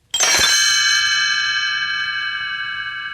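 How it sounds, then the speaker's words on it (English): A bright bell rings out once with a sharp strike, then sustains a long shimmering metallic tone that slowly fades, loud and alone, as the page-turn chime for Tinker Bell's little bells. "You will know it is time to turn the page when Tinker Bell rings her little bells like this."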